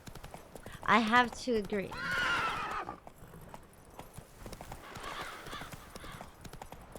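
Roach the horse trots in The Witcher 3 with a steady clip-clop of hooves and occasional neighs, while people talk over the sound throughout.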